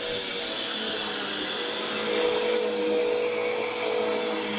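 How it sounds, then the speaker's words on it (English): A household vacuum cleaner runs nearby with a steady, high-pitched motor whine and airy rush that holds constant, swelling only slightly midway, with no voices. "Most babies are scared of the vacuum cleaner"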